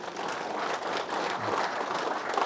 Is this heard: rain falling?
no